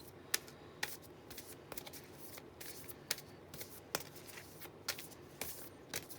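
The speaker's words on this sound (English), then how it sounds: "I'm going to pull a couple more cards." Tarot cards shuffled and drawn by hand, a series of crisp riffling snaps and slaps recurring every half second or so, close and fairly quiet with no talking.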